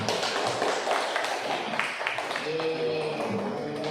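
A ninth-grade class claps in a classroom, a brisk scatter of hand claps with some murmuring voices.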